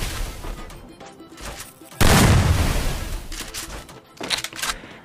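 Gunfire in a Free Fire mobile battle-royale fight: scattered shots, then a loud, sustained burst of heavy fire and blasts, followed by a few more rapid shots.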